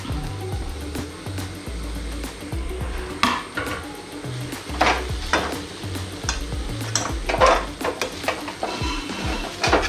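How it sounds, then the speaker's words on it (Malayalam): Grated coconut is stirred and fried in a pan with onions for a Malabar-style dish, giving a loud, steady sizzle broken by repeated scraping strokes of a spoon against the pan, with no talking. "ഇനി നമുക്കിതിലോട്ട് നമ്മൾ ചുരണ്ടി വെച്ചേക്കുന്ന തേങ്ങ കൂടി ഇട്ട് കൊടുത്ത് ഒരു ഗോൾഡൻ കളറാകുന്നിടം വരെ ഇളക്കിയെടുക്കാം"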